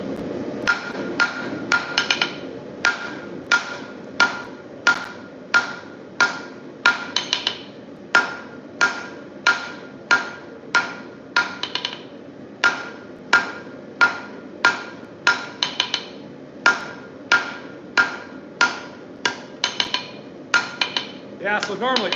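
A blacksmith hand-hammers hot steel on an anvil to draw out the reins of V-bit tongs, giving a long run of sharp, ringing metallic strikes in a steady rhythm with brief pauses between bursts.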